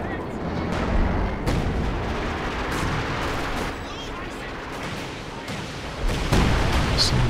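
Howitzer artillery barrages from a Company of Heroes 2 multiplayer battle: dense, continuous rumbling booms and crackling blasts at steady high loudness, with a heavier surge near the end.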